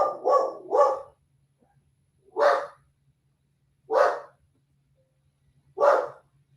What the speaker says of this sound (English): Why is this dog barking?